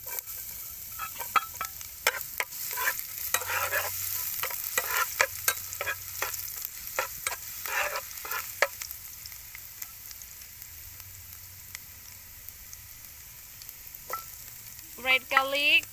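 Garlic fries in hot oil with a soft, steady sizzle while a utensil stirs it, giving repeated scraping and clinking strokes against the pan; the cooking sounds stay close and clear, with no voices.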